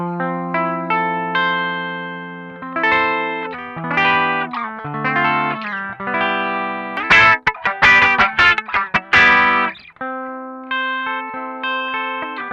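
Electric guitar runs through a VOX Valvenergy Silk Drive pedal with its bright switch on, playing a melodic phrase of single notes and quick chord stabs, then a held chord that rings out alone.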